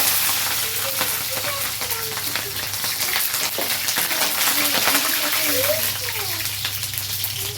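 Garlic cloves and dried red chillies frying in oil in a pan for chutney, giving a loud, continuous, close sizzle with a faint bubbling crackle throughout.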